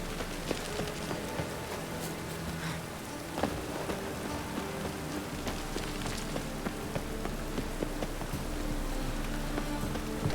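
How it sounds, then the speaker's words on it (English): Steady rain falls in The Witcher 3 game world, a dense continuous hiss filling the whole stretch with faint scattered drips and muffled background game sounds beneath it. "I like rain."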